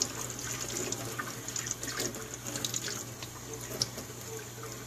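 A makeup brush rinsed under a running tap, a fairly quiet, steady trickle and splash of water at a sink with small spattering accents, no talking.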